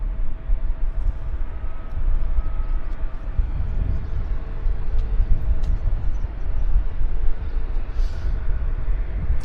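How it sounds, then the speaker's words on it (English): A Boeing 787 Dreamliner taxiing at Vancouver Airport gives off a steady, loud low engine rumble with a faint whine on top, continuous and fairly close. "So we've got a Dreamliner taxiing out right now."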